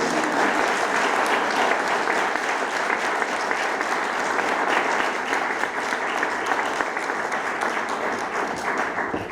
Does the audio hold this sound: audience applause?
yes